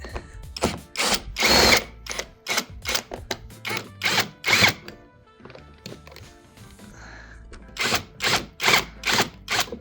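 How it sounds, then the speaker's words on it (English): A power drill whirs in short repeated bursts, undoing the three bolts holding the fog light on an Alfa Romeo Giulietta, close and loud, with brief quiet pauses and faint clunks between runs. "Now I'm gonna remove these three bolts to remove the fog light."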